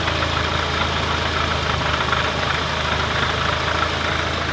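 A VW Golf Mk7 engine idles with a single mass clutch and downpipe, giving a steady, loud, dense rumble with faint rattling chatter, recorded up close near the wheel with no talking.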